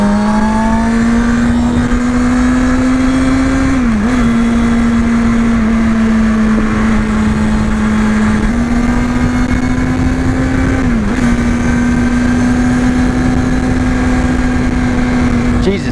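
A Kawasaki ZX-6R 636 sport bike holds a loud, steady high-pitched engine whine at speed, with brief dips at gear changes before pulling on again, heard close amid constant wind rush.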